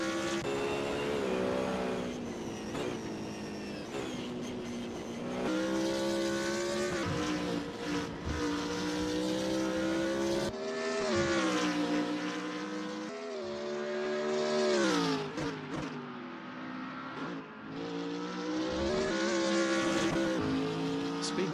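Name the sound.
race car engines in a GT3 racing video game at Lime Rock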